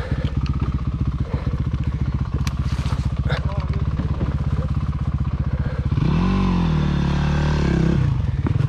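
A motorcycle is ridden downhill with a steady, close engine chug and rattle, rising into a louder, higher rev near the end, with some clatter from the ride.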